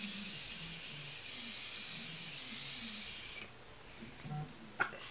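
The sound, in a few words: setting spray being sprayed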